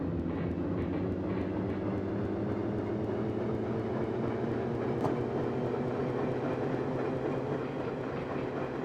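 A small interurban locomotive runs on the San Francisco to Sacramento line, a steady, close, continuous rumble with a rhythmic clickety-clack of wheels over rail joints throughout.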